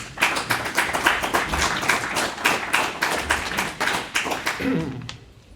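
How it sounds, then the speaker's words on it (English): A conference audience applauds a panelist with steady, dense clapping that carries on for several seconds before tapering off, a brief voice entering near the end. "So please give Cyril a warm applause"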